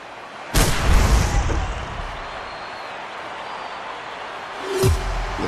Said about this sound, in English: Those fireworks going off.